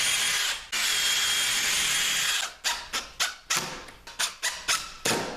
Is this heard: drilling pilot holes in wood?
yes